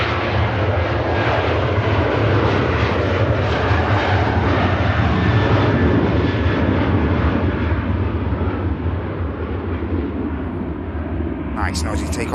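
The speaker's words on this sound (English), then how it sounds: "Nice noisy takeoff from the Ryanair." A Ryanair jet taking off at Manchester Airport gives a loud, continuous roar of jet engines that holds steady throughout and fades only slightly toward the end.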